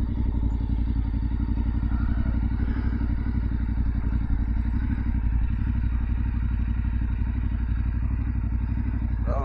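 Yamaha Ténéré 700 motorcycle idling and creeping along at slow speed during practice, a steady close engine chug with clutch-controlled rhythm and occasional light clatter throughout, no talking.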